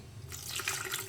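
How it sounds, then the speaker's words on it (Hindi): Water pours steadily into a cooking pot of chicken kofta biryani masala with yogurt, a bright splashing rush that starts abruptly and continues close by without talk. "इसमें मैं पानी डालूंगी"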